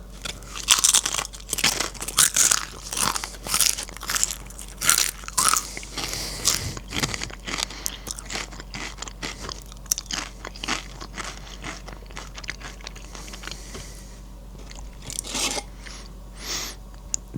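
Beer Braised Steak flavoured Pringles chips are bitten and chewed close up, with loud crisp crunches in irregular bursts followed by softer mastication, with no talking.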